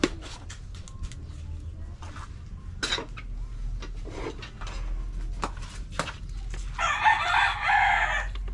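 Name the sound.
chickens clucking and rooster crowing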